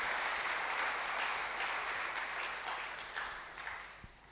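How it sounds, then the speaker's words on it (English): Freshman orientation audience at a college of engineering applauding in welcome, a steady wash of many hands clapping from a fair distance that tapers off slightly toward the end. "shall we all welcome them once again with a clap?"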